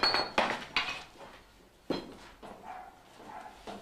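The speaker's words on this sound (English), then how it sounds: "The block is stretched by hammering it to double its original length before folding" A Japanese swordsmith hammers a steel block to stretch it, giving sharp metallic strikes in an uneven rhythm: three quick blows, a pause, then several softer ones, fairly quiet and close.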